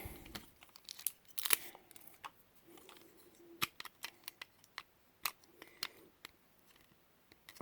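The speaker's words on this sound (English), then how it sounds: "So get the tape off of there." Tape is peeled and pulled off vintage toy packaging, a string of quiet crinkling, tearing and crackling snaps at close range against near-silence.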